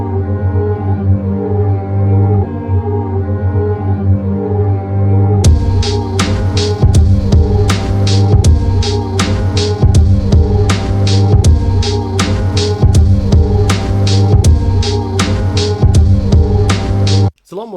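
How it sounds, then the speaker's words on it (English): A drum beat played through an MPC 60 emulation plugin in Ableton, with crisp percussive hits repeating steadily over a sustained low hum and tonal bed, loud and close, stopping abruptly at the end. "we should be able to play this now with it on and get some effects like the MPC 60"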